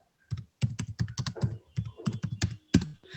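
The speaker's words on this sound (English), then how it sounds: "I'm typing that." Rapid typing on a computer keyboard, a run of close, distinct key clicks in uneven bursts with short pauses, loud and alone with no talk.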